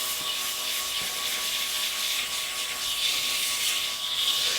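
Wet sanding at 400 grit on an elm lidded box spinning on a lathe gives a steady, hissing rub with a faint tonal hum from the machine, continuous throughout and close by.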